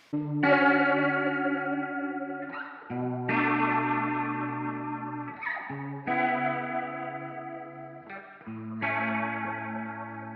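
Sustained guitar chords ring out one after another, drenched in a wobbly, warbling chorus effect with a lo-fi, slightly distorted character. No voices.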